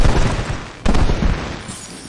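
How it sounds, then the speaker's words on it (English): Fireworks bursting in the video game Final Fantasy XV War for Eos, a dense crackling barrage with a sharp louder burst partway through, sustained over the whole stretch without any talking. "Activate all my fireworks."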